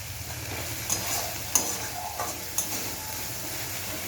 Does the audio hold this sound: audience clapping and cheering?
no